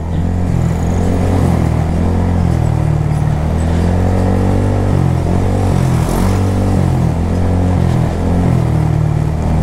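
Loud Yamaha Aerox V2 motor scooter engine droning while riding, its pitch rising and falling with throttle changes, close and continuous.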